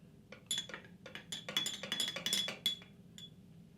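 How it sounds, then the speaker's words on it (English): A spoon stirs chilled espresso in a small cup, a quick run of bright ringing clinks against the rim, close and fairly loud, easing off after a few seconds with no talk. "I'll just give it a quick stir."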